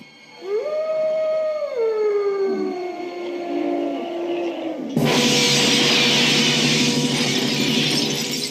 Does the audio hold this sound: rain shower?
no